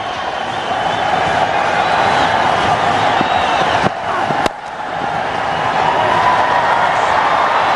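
Loud, continuous roar from a packed cricket stadium crowd during a one-day international between India and Australia, sustained cheering with a brief dip in the middle before the din resumes.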